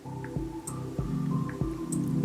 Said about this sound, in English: You can hear this little chill down tempo song I've been working on.